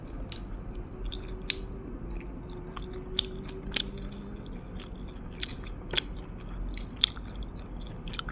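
Someone eats crispy fried tilapia with a spicy cucumber salad, faint wet chewing broken by sharp crunchy bites every second or so, close and quiet with no speech.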